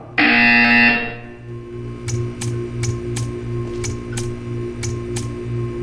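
Buzzer in the Portal 2 video game sounding as a loud harsh tone that cuts off, followed by a series of short electronic beeps over a steady low mechanical hum.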